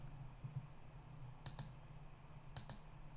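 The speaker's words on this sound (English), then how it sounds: "let's go ahead and Shift right click, Shift right click, and Shift right click there" Two quick double mouse clicks, sharp and close but quiet, over a faint steady room hum, while modeling in Blender with modifier-key right clicks.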